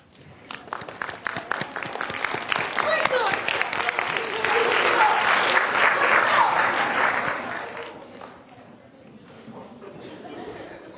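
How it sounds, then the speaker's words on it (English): A standing audience at a high technology day event gives a round of applause, many hands clapping that swell to a peak and then taper off, with some chatter mixed in. "give them a round of applause"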